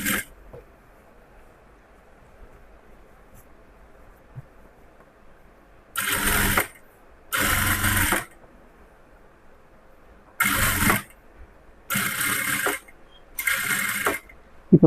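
Sewing machine stitching along the edge of a blouse neckline, running in five short separate bursts of a second or so each after a long quiet stretch, close and fairly loud.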